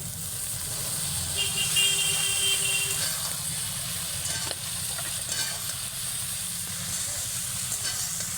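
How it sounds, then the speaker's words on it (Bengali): Eggplant pieces hit a hot pan for a fish-bone chorchori and sizzle loudly, a dense steady hiss that carries on throughout with faint stirring scrapes. "বেগুন দিয়ে দেবো, তারপর বেগুনটা ঢেলে দিচ্ছি"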